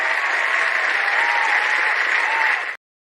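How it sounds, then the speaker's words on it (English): A recorded applause sound effect plays, a dense and loud wash of crowd clapping that holds steady and then cuts off abruptly into silence. "Am I going to play my applause?"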